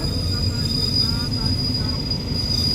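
A freight train stands at Ban Pong station with a continuous low rumble and a faint steady high whine, heard at close range for the whole stretch.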